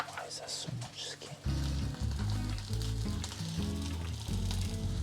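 Garlic hits melted butter in a pan and sets off a loud, steady sizzle close by, while a person talks over the frying.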